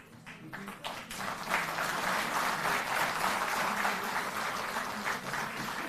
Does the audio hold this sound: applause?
yes